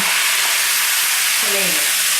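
Tomatoes hit a hot pan already cooking purple, pink and yellow potatoes for a vegan soy-protein kheema, giving a steady loud sizzle and hiss with a short voice fragment partway through.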